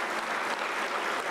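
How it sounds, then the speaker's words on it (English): A graduation ceremony audience applauds steadily, with dense, even clapping from a large crowd that fills the hall without pause. "As you are clapping"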